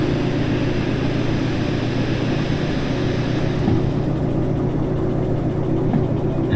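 A locomotive engine runs in the video game Derail Valley while hauling a 1600-ton load, a steady low mechanical rumble holding an even level from start to finish.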